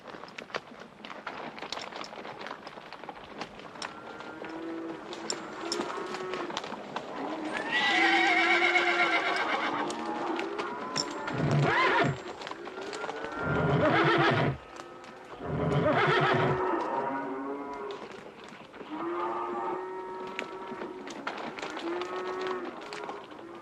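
Horses and cattle are driven past in a western film scene, with repeated neighs and whinnies over steady hoof clip-clop and shuffling movement, close and fairly loud throughout, under occasional shouting voices.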